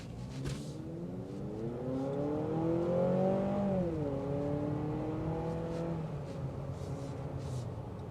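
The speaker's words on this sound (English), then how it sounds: "if you mash the gas pedal, you're gonna hear the engine roar a little bit" A 2026 Honda CR-V TrailSport Hybrid engine roars steadily as it accelerates in sport mode, pitch climbing smoothly and then settling into a sustained drone, close and loud throughout.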